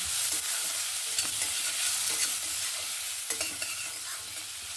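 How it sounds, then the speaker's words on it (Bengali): Kohlrabi fries with onion and tomato in a pan, giving a steady bright sizzle with occasional soft stirring scrapes and taps, close and continuous, with no voices. "এবার এটা আমি দিয়ে দেব যে পেঁয়াজ টমেটো সঙ্গে ভেজে নেব একটু"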